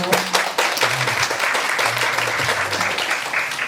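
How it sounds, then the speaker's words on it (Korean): Audience at a community care talk concert applauds steadily as a professor is welcomed to the stage, dense clapping filling the room from start to finish at a strong level. "큰 박수로 맞이해 주십시오"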